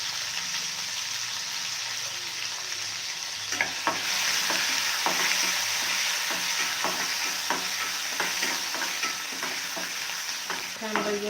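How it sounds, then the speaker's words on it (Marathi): Cumin seeds and curry leaves sizzle in hot oil for a tempering, a steady close crackling hiss that grows louder midway, with intermittent clinks and scrapes of a spoon stirring the pan. "थोडंसं जिरं चांगलासा तडका द्यायचा बघा"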